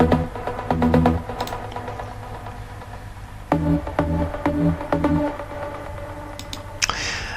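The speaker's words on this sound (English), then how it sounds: "detuned trancey sound with some delay and reverb" Detuned trance pluck synth from Spire with delay and reverb, playing two groups of short rhythmic plucked notes with echoing tails between them, loud and alone, ending in a brief noisy swell.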